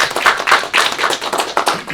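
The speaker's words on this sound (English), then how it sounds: "So let's give them a round of applause." Applause from an audience at a college board of trustees meeting, steady overlapping hand claps filling the room for about two seconds without talk.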